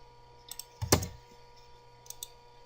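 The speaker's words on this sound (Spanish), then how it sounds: "O bien le damos a Enter en el teclado." A single firm click of the Enter key on a computer keyboard, close and crisp, with a few lighter key taps before and after against a quiet background hum.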